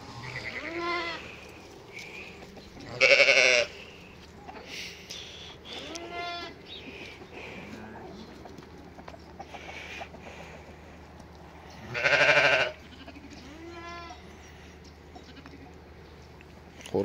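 Ewes and milk-fed lambs reuniting on a farm give repeated bleats, a mix of short wavering cries and two louder drawn-out calls, spaced through a calm outdoor setting with faint bird sounds.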